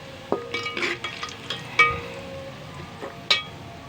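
Sliced onions sizzling and browning in a pan, with a steady soft fry under several sharp clinks and scrapes of a utensil stirring against the pan.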